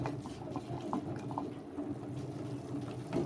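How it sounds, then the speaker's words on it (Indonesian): A pot of fruit pudding mixture boils on the stove, soft irregular bubbling and popping, faint and close, with low background hum and no talking. "Ini kita masak sampai mendidih"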